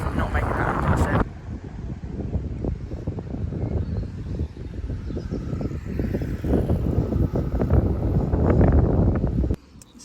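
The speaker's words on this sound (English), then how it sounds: "the side winds are just insane" Strong side wind blasting across the microphone while cycling on a road bike, a loud, steady buffeting roar that lasts almost the whole time, with a person talking over it.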